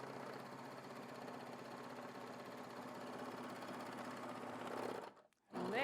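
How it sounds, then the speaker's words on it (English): A Baby Lock Vibrant serger stitches fabric with a fast, steady mechanical whirring hum for about five seconds, then stops abruptly and restarts briefly. "get your fabric under there, and then all I need to do is step on the gas"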